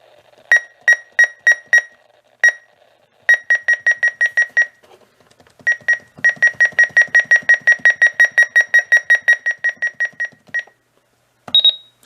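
A Radio Shack 12-250 weather radio sounds its alert siren: loud, high electronic beeps in rapid bursts, each run of pulses broken by short pauses, with no voices.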